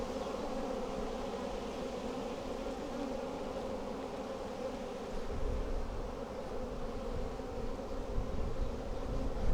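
Dense, steady buzzing of many honey bees close by at an open hive, continuous throughout and growing slightly louder toward the end.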